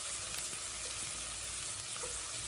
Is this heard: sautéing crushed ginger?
yes